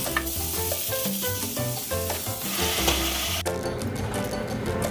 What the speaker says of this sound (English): So put oil, a little oil. Saute your garlic.